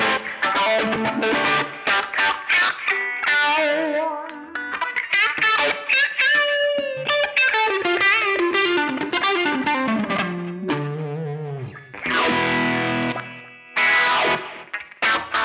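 Epiphone Korina V electric guitar played loud through heavy distortion with effects, a continuous run of chords and single-note lines filling the whole passage with no talk.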